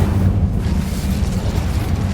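A fiery blast booms out as the Incendio fire spell is cast in Hogwarts Legacy, a loud, deep rumbling roar that sustains for about two seconds with no voices over it.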